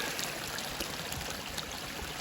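Spring water trickles and babbles steadily close by on a hiking trail, a continuous gentle stream sound with no voices.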